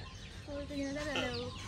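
Chickens cluck at a hatchery in a short run of close, tonal calls, with a faint murmur of voices and steady room noise behind them.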